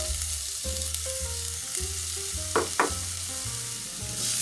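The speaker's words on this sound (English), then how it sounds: "And you want to let that saute for about 1 minute" Onion sautéing in olive oil in a skillet for one-pan chicken and rice, a quiet steady sizzle over soft background music, with two brief stirring clatters midway.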